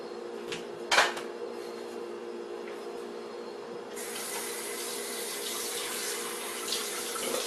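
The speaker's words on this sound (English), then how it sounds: "you're going to want to immediately get those pans into the sink and get some water and get some soap into them" Water from a tap runs into a sink in a cooking video game, filling it to soak greasy pans; a steady broadband rush starts partway through and continues evenly after a brief knock near the start.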